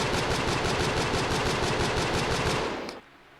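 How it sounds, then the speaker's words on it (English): Video game weapon fires in fast automatic bursts, each shot's sound slightly randomized, making a loud, close, rapid string of gunshots that stops abruptly after about three seconds, with no talking. "Now when you fire a weapon, the sound is slightly randomized, not enough to make it stick out or anything."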